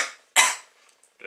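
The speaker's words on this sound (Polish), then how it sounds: "Byłem przeziębiony, mi kaszel po prostu został." A lingering cough after a cold: one sharp, loud cough burst alone, followed by quiet, then another short cough starting at the end.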